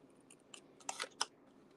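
Scissors make several quick, crisp snips close up while fussy cutting paper for a stamped Halloween treat bag, and the cuts come in short irregular clusters.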